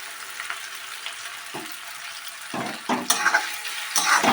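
Mushroom and peas masala fries in a pan, giving a faint sizzle with a few louder scraping and stirring bursts near the end, and no voices.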